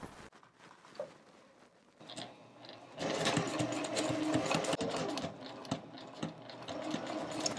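A sewing machine back stitches a hip bag, with a few short, quiet bursts of stitching at first, then a loud, steady, close mechanical whir and rattling needle rhythm from midway on.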